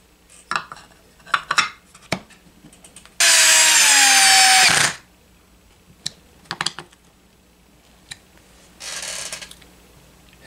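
A power driver runs in one steady whirring burst of about two seconds, with a shorter, fainter burst near the end, as screws go back into the gearbox of a STIHL HS-80 hedge trimmer. Scattered clicks and taps of parts and tools surround it, close by.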